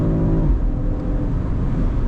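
A 2024 BMW XM 50e plug-in hybrid with 476 hp accelerating hard on a highway, its engine loud and close, a rising drone that drops briefly at a gear change and then climbs again.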